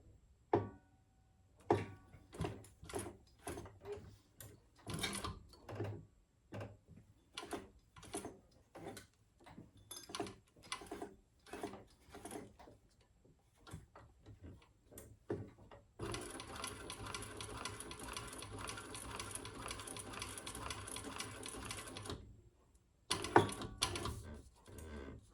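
A sewing machine stitches a Gemella wallet around a curve, first stepped one stitch at a time in sharp separate clacks, then a steady run of several seconds, then a few more stitches, close and quiet.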